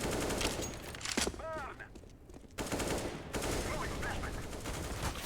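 Rapid bursts of automatic gunfire in Counter-Strike: Global Offensive crackle in quick succession, with a short sliding whistle-like tone and brief lull before the shooting resumes.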